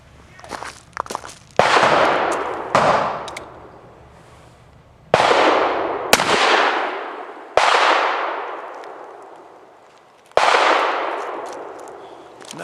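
A Ruger Old Army black powder revolver with a 7.5-inch barrel fires 255 grain Kaido conical bullets over Triple Seven powder: five loud, sharp shots spaced a few seconds apart, each followed by a long ringing decay, with small clicks between.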